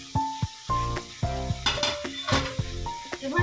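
Kashmiri chilli powder masala with garlic and ginger sizzles loudly in hot oil for a Bengali mutton kosha, with a spoon scraping and clinking against the pan in repeated stirring strokes.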